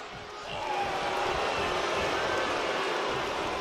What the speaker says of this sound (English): And you can hear the resounding boos, for lack of a better word, from the crowd here.